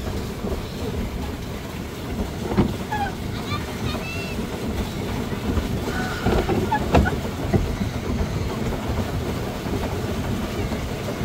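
Boat moving on water during a boat race, a steady rumbling wash of motor and water close by, with excited voices shouting over it.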